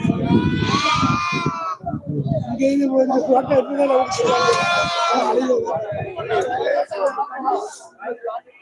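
Goats and sheep bleat repeatedly at the Tuesday livestock market in Melapalayam, their wavering cries rising close and loud amid busy crowd chatter and nearby voices talking.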